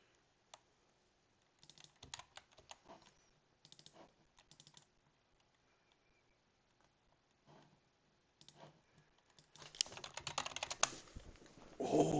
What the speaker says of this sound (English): That was some fast typing.